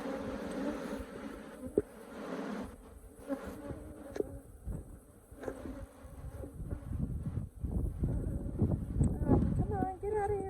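Africanized honeybees swarm and attack a tarantula wasp, giving a dense, continuous buzzing drone up close, with a person talking over the insects throughout.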